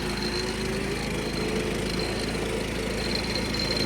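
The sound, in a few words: 1976 John Deere 300 riding lawnmower engine running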